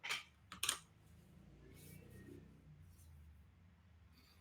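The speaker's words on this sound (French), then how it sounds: "je suis sur un clavier mécanique et que du coup, c'est le plus silencieux que j'ai trouvé" A few scattered, quiet clacks from a mechanical computer keyboard, with faint low background hum between the isolated key presses.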